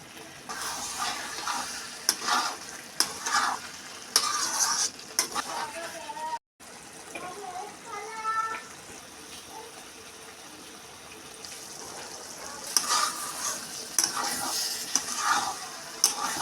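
Banana flower and prawn curry in a pan, stirred as garam masala powder and two spoons of ghee go in near the end of cooking; intermittent scraping and sizzling, close and moderately loud, with no talking.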